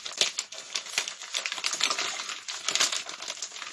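A recycled paper mail envelope torn open by hand while unboxing a video game parcel, giving a close, continuous ripping and crinkling rustle with small sharp bursts throughout.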